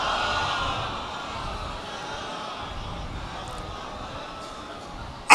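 A congregation at a religious majlis gathering chants salawat in unison, a broad, sustained crowd voice that stays steady and moderately loud for several seconds, with a sharp sound at the very end.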